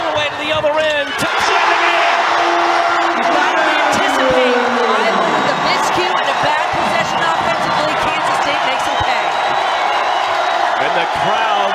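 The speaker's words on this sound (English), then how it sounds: "the crowd into it now" Crowd at a college women's basketball game, Kansas State hosting fourth-ranked Iowa in Manhattan, tied in the fourth quarter, roars steadily and loudly throughout, with cheers, whoops and scattered claps under continuous play-by-play commentary and squeaking court action.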